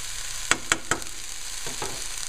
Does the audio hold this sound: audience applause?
no